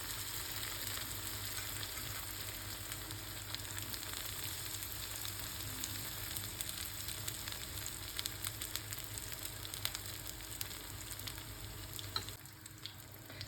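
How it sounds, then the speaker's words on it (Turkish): Börek pastries fry in hot oil with a steady, soft crackling sizzle, faint and continuous with occasional louder pops. "Şimdi sırasıyla böreklerimi kızarmaya başladım."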